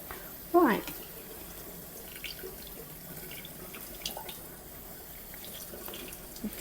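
A vacuum cleaner filter is washed under running tap water, a steady, low splashing flow with one brief louder splash near the start.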